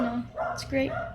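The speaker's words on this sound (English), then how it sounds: "Sorry about my dog there." A pet dog gives a couple of quick barks and yips close by, mixed in with a person talking indoors.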